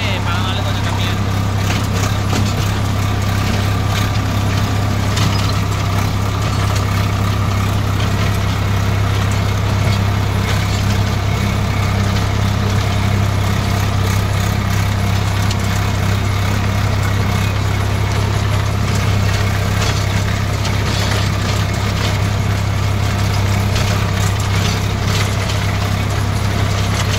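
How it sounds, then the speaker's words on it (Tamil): A Swaraj 855 FE tractor engine runs steadily under load, a loud, constant low drone and hum throughout, with no talk. "வண்டி லோடு வாங்கி தான் ப்ரோ ஓடுது"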